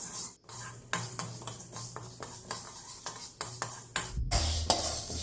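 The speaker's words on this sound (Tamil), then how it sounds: "கடலைப்பருப்பு அரை கப் சேர்த்தி பொன்னிறமாக வாசம் வர வரைக்கும் வறுத்துக்கலாம்" Chana dal is roasted dry in a pan and stirred steadily, the utensil scraping and tapping the metal in an irregular rhythm over a light sizzle and rattle of lentils, close and with no talking.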